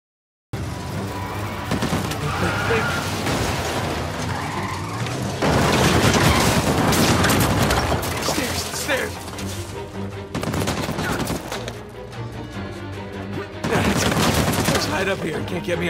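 Dense, sustained bursts of automatic gunfire and scattered booms from a combat sequence in the video game Uncharted 4: A Thief's End, loud and nearly continuous, with short gaps between volleys.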